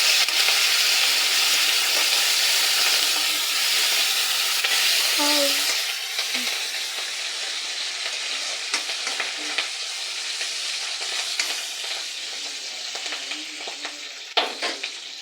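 Garlic, curry leaves and a dried red chilli fry in hot oil with a loud, steady sizzle that eases slightly partway through, broken by occasional light stirring clicks; no voices.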